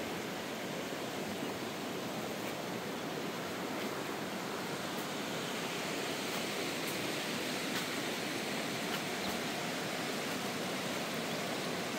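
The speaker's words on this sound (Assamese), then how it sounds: "ইয়াত এখন ধুনীয়া নদী আপোনাৰ কটেজৰ লগতে বৈ গৈছে" A river rushes past riverside cottages in Sangti Valley, Arunachal Pradesh, a dense, constant broadband roar of flowing water with no voices.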